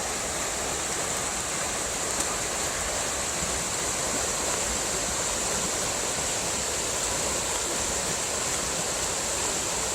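A river rushes steadily in the Pacific Northwest woods, a dense, even roar of flowing water that stays constant and fairly loud with no voices.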